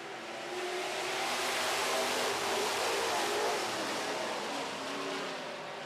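Super trucks roar around a race track in a dense, continuous engine wash, loud and broadband, swelling and fading slightly as the field passes, with no clear voices over it.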